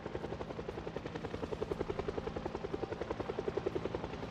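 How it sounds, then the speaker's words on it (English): Helicopter in a zombie survival game, Project Zomboid build 42, passing overhead with a steady, fast rotor chop that pulses throughout at moderate loudness, no talk over it. "we've got helicopter."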